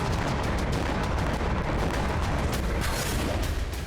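A Russian Grad multiple rocket launcher fires in a dense, continuous salvo, with rapid overlapping blasts and roaring launches forming a loud, unbroken barrage.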